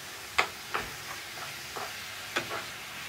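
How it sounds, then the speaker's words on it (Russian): Meat and onions fry in a pan with a low, steady sizzle, broken by several sharp scrapes and clacks as a utensil stirs them. "Сейчас и мясо отдаст, и лук отдаст воду. Какое-то время они в собственном соку будут жариться."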